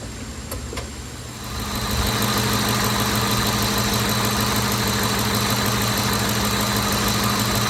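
A Ford F-150 pickup truck engine idles with a steady low rumble that grows louder and fuller after a couple of seconds, then holds even and smooth.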